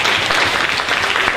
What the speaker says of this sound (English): Give yourselves a round of applause for being excellent parents